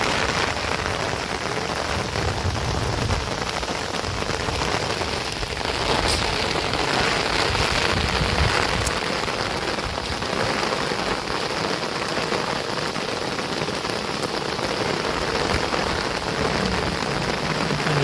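Heavy rain pours steadily onto surfaces, a dense, continuous patter with no talking, close and loud for the whole stretch.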